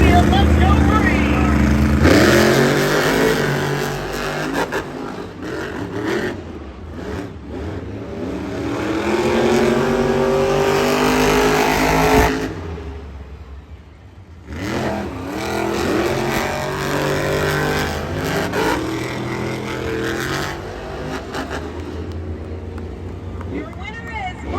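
Monster trucks race at a Monster Jam show in Commonwealth Stadium, engines roaring and revving loudly, with a brief dip midway before the roar resumes, under a stadium announcer's commentary.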